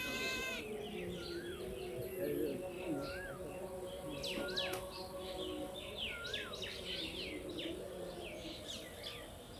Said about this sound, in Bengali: পাখিদের কিচিরমিচির সৌন্দর্য একটা আওয়াজ শোনা যায়।